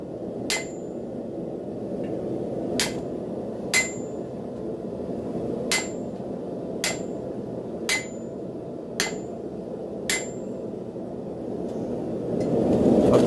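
A 3.25-pound blacksmith's hammer forges a railroad spike into a knife, ringing out in eight sharp, metallic strikes at uneven intervals over a low background rumble.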